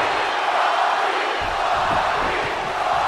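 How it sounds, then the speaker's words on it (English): A packed wrestling arena crowd in WWE 2K20 roars and cheers continuously, loud and steady throughout, with occasional whoops rising out of the wash of noise. "The crowd never gets tired of The Rock's antics."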